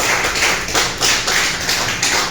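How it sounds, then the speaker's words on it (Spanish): A church congregation claps together during a revival service, a dense, steady wash of many hands applauding loudly with faint swells and no voices on top. "Denle un aplauso al Señor Jesucristo en esta noche"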